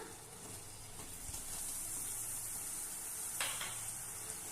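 Grated coconut stirred into sweet kozhukattai filling in a hot pan, giving a steady soft sizzle and scraping texture throughout, close and moderately loud, with a brief brighter scrape near the end.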